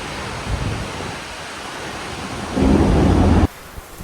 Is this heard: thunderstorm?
yes